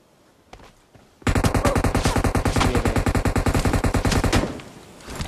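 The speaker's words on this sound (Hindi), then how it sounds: "वो मेरे पे फायर देता है M249 से" An M249 machine gun fires in the battle royale game PUBG: a single long, rapid burst of evenly spaced, loud, close shots lasts about three seconds, then cuts off.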